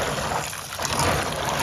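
Water swishing and splashing steadily, like something being rinsed and stirred in a basin, with a continuous watery rush throughout.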